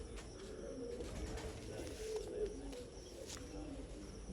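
Soft, low pigeon coos repeat a few times, quiet and close, over faint background hiss.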